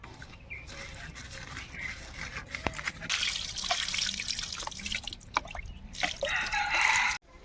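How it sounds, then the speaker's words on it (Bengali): Freshwater snails are washed by hand in water, with splashing, dripping and sloshing that come in bursts, loud at times, while a rooster crows faintly in the background. "গুগুলিগুলো নিয়ে এবার সুন্দর করে ধুব ধুয়ে নেব"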